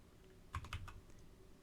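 A computer keyboard is struck in a quick burst of about four faint keystrokes while a command is entered at a Windows command line, with quiet room tone on either side.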